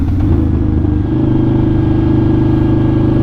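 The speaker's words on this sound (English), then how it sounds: "I don't know if y'all can hear the exhaust really well, but it's loud" A loud 2005 Harley-Davidson V-Rod motorcycle engine rumbles close by, a deep throaty exhaust idling and pulsing steadily with no talk over it.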